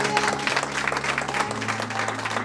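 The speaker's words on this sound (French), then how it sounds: "Merci aux acclamations." Congregation clapping and cheering at a year-end church vigil, a dense sustained wash of applause with a low musical drone and tones underneath.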